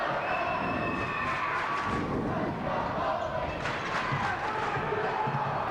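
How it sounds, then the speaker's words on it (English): A high school boys' basketball crowd in a Moline, Illinois gym roars and cheers, fired up by cheerleaders, making a dense continuous wash of voices and shouts at a constant level with no single voice standing out. "Cheerleaders got the Moline crowd going."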